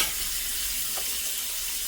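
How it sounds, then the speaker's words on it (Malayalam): Tomato dropped into a frying spice mix in a pan for beef pothi porotta, giving a steady, close sizzle with light stirring scrapes and no talk. "ഇനി ഇതിലേക്ക് തക്കാളി ഇട്ട് കൊടുക്കാം."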